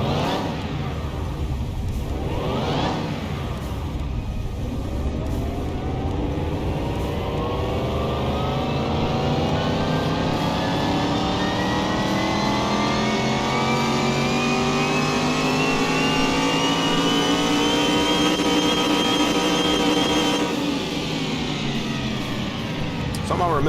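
A fully rebuilt car engine on a dyno in Car Mechanic Simulator 21 revs up in one long, loud, steadily rising pull, its pitch climbing for about twenty seconds before it cuts off.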